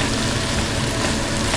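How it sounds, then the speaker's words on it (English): Onions fry in a pan with a dense, even sizzle, close and steady throughout, no voices. "we are just going to get a nice colour on these onions."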